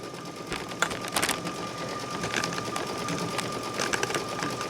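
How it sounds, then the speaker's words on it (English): A sewing machine runs a triple stitch on pot holders, a steady close whir with rhythmic needle clatter and a faint high tone, continuous and alone. "That is sewing a triple stitch."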